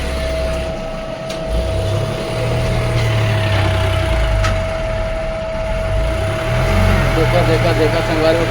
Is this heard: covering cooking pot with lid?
no